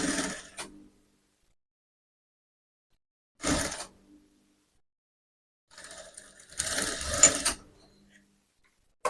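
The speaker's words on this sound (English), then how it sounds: "I'll now sew it." Sewing machine stitching elastic into a fabric cap, heard as three separate mechanical bursts, the last one longer, with silent pauses between them and no talking.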